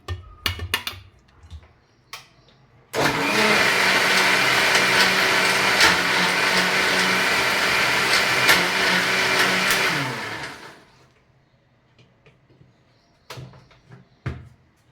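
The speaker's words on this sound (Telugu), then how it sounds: "ఇప్పుడు మళ్ళీ మనము మిక్సీ కొట్టేసుకుందాం" An electric mixer grinder (mixie) whirs loudly and steadily for about seven seconds while grinding tomato pickle, then spins down, with brief clinks and knocks before and after.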